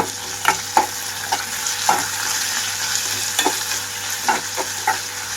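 Onions with mint and coriander frying over a medium flame, a steady soft sizzle with scattered pops and stirring taps against the pan, close and without talk.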